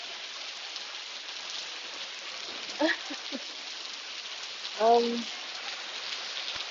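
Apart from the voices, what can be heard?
rain falling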